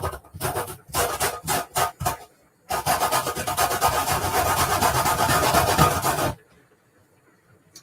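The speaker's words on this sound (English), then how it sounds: "I'm going to zest the lemon." Lemon being zested, a run of short raspy scrapes in quick bursts followed by a steady continuous grating, close and fairly loud, with no talk.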